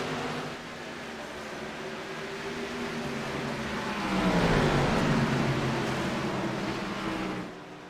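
LEC NextGen Series race cars roar down the front stretch at Richmond in 2022, a loud, continuous engine drone that swells and bends in pitch as the pack passes close by, then eases off.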